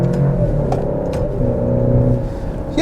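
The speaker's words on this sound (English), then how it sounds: "Let's get a little acceleration in." A 2022 Alfa Romeo Stelvio Veloce with a four-cylinder engine accelerates, its engine note climbing steadily as a close, sustained hum heard from inside the cabin.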